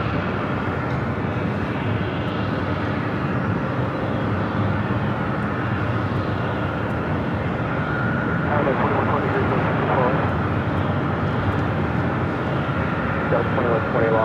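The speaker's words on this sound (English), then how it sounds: "WestJet's up next for arrival." WestJet airliner arriving at Los Angeles International Airport, a steady broadband jet roar holding loud and continuous throughout, with voices faintly present in the background.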